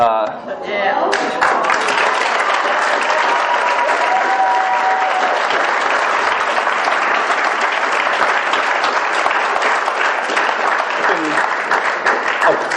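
An audience at an Alcoholics Anonymous speaker meeting breaks into loud, sustained applause that swells after a brief voice at the start and continues steadily throughout.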